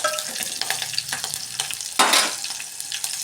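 Chillies frying in a pan for kadhi vada, crackling and sizzling steadily with light stirring taps and one louder scraping stir midway.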